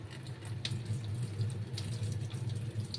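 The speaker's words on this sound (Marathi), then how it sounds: "हा पूर्ण पाणी मी आता काढून घेते" A steady, close rush of water pours and splashes as it is drained off soaked semolina, continuous for the whole stretch with a low hum underneath.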